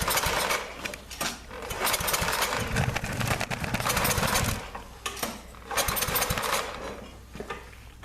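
A Yardman snowblower engine sputters and revs after its first-ever pull start, running roughly with uneven surges and cutouts, loud and close.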